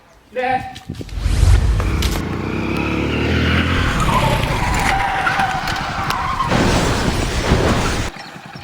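A vehicle roars in fast and skids loudly, tires scraping for several seconds before a second burst of noise, with a voice heard briefly at the start.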